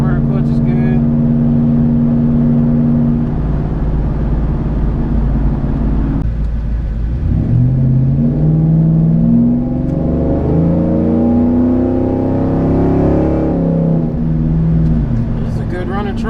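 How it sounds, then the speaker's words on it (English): Trailblazer SS truck with a performance-rebuilt transmission idles and revs, engine tone climbing and falling in steady harmonic sweeps; loud and close throughout, with no talk over it. "This is a good running truck right here."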